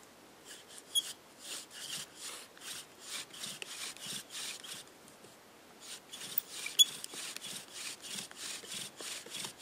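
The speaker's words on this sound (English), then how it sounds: "I'm going to grind out that notch and give it another try" Rhythmic rasping of wood being ground out to recut a notch in a bow drill set made without modern tools, steady back-and-forth strokes close up and alone, with no voices.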